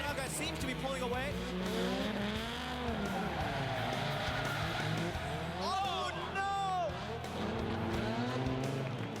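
Drift race cars slide through a hairpin turn in a judged competition, with engines revving and tires squealing and skidding continuously under an excited commentator's voice.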